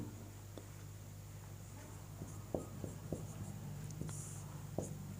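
Marker or chalk writing a Sanskrit word on a board, a series of faint scratchy strokes with short taps over a steady low hum, no talk.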